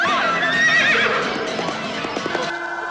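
In a film scene, a horse whinnies loudly and shrilly while galloping hooves pound beneath it, a dense, close, continuous mix with a fainter tone trailing at the end.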